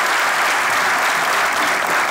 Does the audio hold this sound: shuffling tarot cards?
no